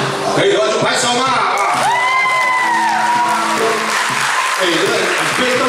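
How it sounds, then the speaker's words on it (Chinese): An audience claps and cheers for a live band performing on stage, with shouts and voices mixed in. The dense, steady applause runs through the whole stretch, fairly loud and close. "可以的话就拍手嘛。"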